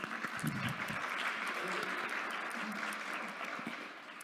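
Applause from the audience at a township candidates forum, a steady wash of many hands clapping at moderate distance that fades slightly toward the end, with no talk over it.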